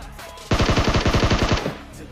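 Automatic gunfire in the PUBG video game comes as a single burst of about ten rapid, evenly spaced shots. It is loud and sharp, lasts roughly a second and stands alone with no talk.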